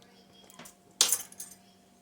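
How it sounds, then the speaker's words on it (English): A utensil stirring pork stew with tomato paste in a pot, a soft knock and then one louder metallic scrape and clink, close and brief, with quiet around it. "And then we're going to give this a stir."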